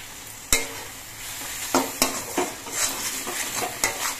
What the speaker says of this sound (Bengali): নুন দিয়ে মশলাটা নেড়ে চেড়ে মিশিয়ে নিতে হবে